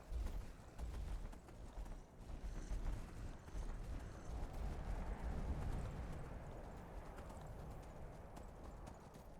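Horse galloping in Skyrim, a steady fast clip-clop of hooves on ground that holds throughout at moderate level, with no voices.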